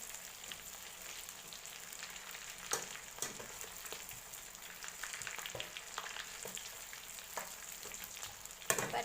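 Shrimp deep-fry in hot oil with a steady, fairly quiet bubbling sizzle and occasional sharper crackles and pops throughout.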